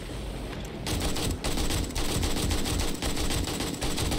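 Rapid automatic gunfire in the video game 7 Days To Die during a day 500 horde defense from a jumping tower, loud and sustained bursts with brief gaps between them.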